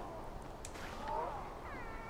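A tamed cave lion in the game Far Cry Primal gives a few soft, cat-like growls and moans, heard faintly over a constant wash of background game ambience.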